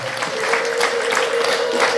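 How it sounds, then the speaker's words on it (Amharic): A church congregation claps together at the close of a prayer, a dense, steady wash of many hands that carries on evenly for the whole stretch, with no voices over it. "አጨብጭቡ።"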